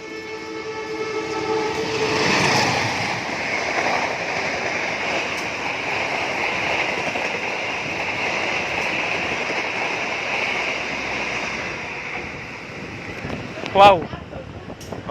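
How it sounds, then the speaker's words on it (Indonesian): Gaya Baru Malam Selatan passenger train speeding straight through Krian station without stopping, a steady loud rolling roar of wheels and cars lasting the whole pass, ending with a brief sharp horn blast near the end; a voice exclaims briefly at the start. "kereta api Gaya Baru Malam Selatan ini persiapan melintas langsung"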